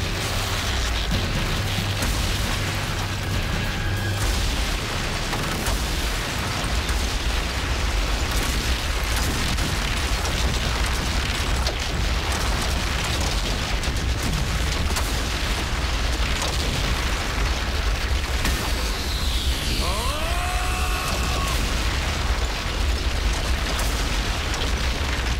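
Cartoon building collapsing amid explosions in a Spider-Man battle scene, a dense, loud, continuous roar of rumbling booms and crashing debris that persists throughout, with a few whooshing effects near the end.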